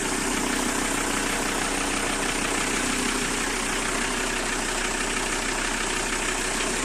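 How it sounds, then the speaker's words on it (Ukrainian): A 1997 Audi A6 C4 with a 2.5 TDI 103 kW diesel engine idling, a loud, steady close-up rumble with an even clatter and no breaks or talk throughout. "Отак працює моторець."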